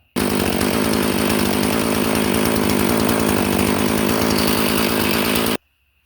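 A Husqvarna 450 chainsaw runs after a carburetor replacement, a loud, steady buzzing engine close by that starts abruptly, holds a constant pitch for about five seconds, then cuts off.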